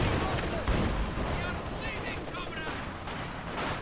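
MG34 machine gun fire in the Company of Heroes 2 strategy game, a steady crackle of distant automatic shots and battle noise running under continuous talk.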